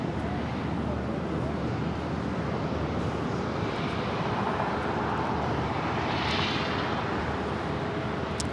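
Airliner at Los Angeles LAX airport, a broad steady jet roar holding loud and constant throughout, with a faint tonal whine rising slightly near the end and a windy rumble beneath.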